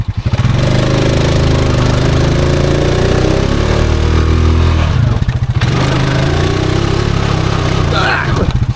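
A Honda Foreman ATV engine drives itself out of dug-in ground with the differential locked, a loud, steady mid-pitched drone that holds close and constant, dipping briefly before resuming.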